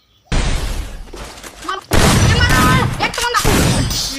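Rapid bursts of gunfire and blasts from a shooting video game, loud and dense, with a short pause before a second, longer stretch of firing while excited voices talk over it.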